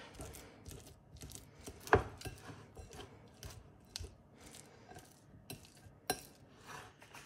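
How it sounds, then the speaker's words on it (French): Blue cheese (bleu d'Auvergne) and butter being crushed together in a bowl make quiet, irregular scraping and tapping clicks from the utensil, with a few sharper knocks, close by and with no talking. "Et je vais écraser les deux pour les mélanger."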